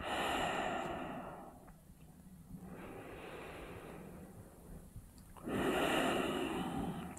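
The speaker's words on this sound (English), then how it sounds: "continue to breathe in and out through the nose with a gentle constriction in the back of the throat so your exhales sound a little bit like this." During a vinyasa yoga flow, slow breaths exhaled through the nose with a gently constricted throat sound as soft, hissing ocean-like rushes, three long audible exhales with quieter gaps between, close and alone.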